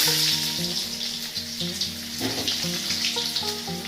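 Cumin seeds and onion fry in hot oil as a tempering for a fish kofta curry, with a continuous bright sizzle and an underlying tonal hum, steady and close throughout.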